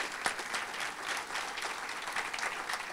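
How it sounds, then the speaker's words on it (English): Steady, moderately quiet clapping from a crowd at a college retirement open house in Muskegon, with a few sharper individual claps standing out. "Yes, round of applause."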